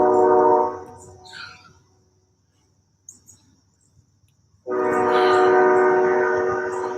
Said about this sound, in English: I love the sound of the train.